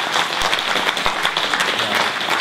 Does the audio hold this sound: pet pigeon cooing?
no